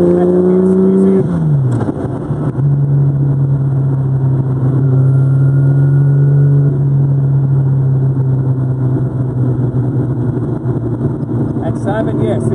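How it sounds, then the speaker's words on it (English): A classic Jaguar XKSS sports car engine, close and loud, revs briefly and drops to a deep, steady idle hum that holds for several seconds before picking up again, with a voice speaking over it. "It is the famous Jaguar XKSS, owned by Steve Mcqueen"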